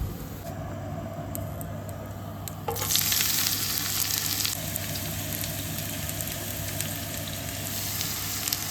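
Sliced onions and nigella seeds hit hot oil in a pan, and the sizzle swells abruptly into a loud, steady, crackling fry that continues over a constant low hum.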